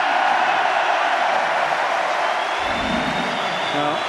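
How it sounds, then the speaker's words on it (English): Rugby crowd at an Ulster versus Dragons match cheering a man of the match announcement for Ruan Pienaar, a broad, steady roar of many voices held at full strength throughout, with a low rumble swelling near the end. "the crowd delighted that Ruan Pienaar has been named as man of the match"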